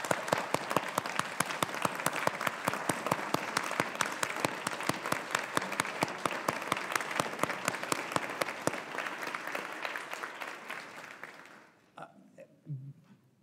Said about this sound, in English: I'm going to stand up and clap for you